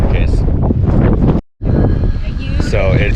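Strong wind at a beach campsite beside a converted Chevy Astro van roars and buffets the microphone in a loud, steady rumble, cut off by one brief silent gap before it resumes.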